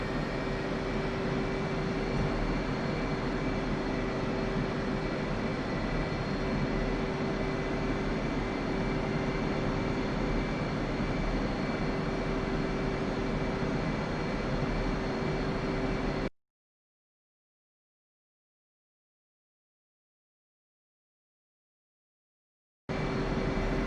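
An F/A-18C jet's engines hum and whine steadily while taxiing in the DCS World flight simulator, a loud constant drone with a tonal whistle that cuts to silence for several seconds before returning.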